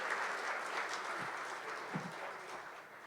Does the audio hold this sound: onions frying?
no